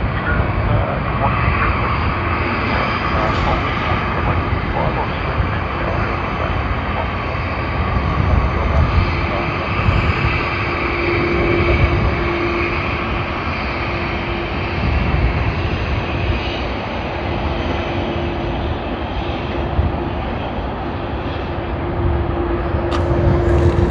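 Jet airliners on the runway at Sydney Airport, a loud, sustained engine roar and rumble heard from a distance that swells slightly and holds for the whole stretch, with people talking over it.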